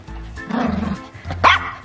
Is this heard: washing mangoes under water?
no